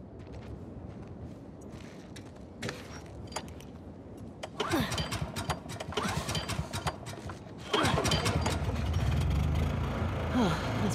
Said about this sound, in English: Hey, found the generator.